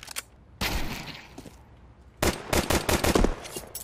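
Counter-Strike 2 gunfire in competitive play, loud bursts of automatic shots: a short volley, a pause, then a longer rattling string of close, sharp cracks.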